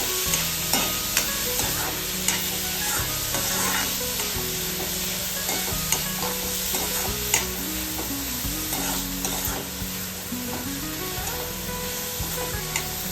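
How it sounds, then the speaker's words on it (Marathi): Onions sautéing in hot oil in a pan for masala pav, with a continuous close sizzle and repeated scraping stirs, a faint melodic tone running underneath. "कांदा 2 मिनिटं भाजून घ्यायचा चांगला।"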